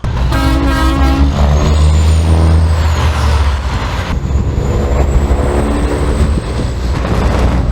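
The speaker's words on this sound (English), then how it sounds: "seen a beautiful truck roll in" An old-school heavy truck rolls into a stone yard, its engine rumbling loudly and steadily throughout, with sharp hissing air-brake releases and high whining tones over the drone, close by and with no talking.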